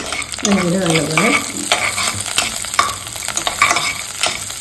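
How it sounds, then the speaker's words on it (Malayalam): Onion and chopped cashews frying in a pan for semolina milk kanji, with loud close sizzling and repeated stirring scrapes against the pan, no talking. "ഇതിൻ്റെ കൂടെ തന്നെ അണ്ടിപ്പരിപ്പ് മുറിച്ചിട്ട് കൊടുക്കുന്നുണ്ട്."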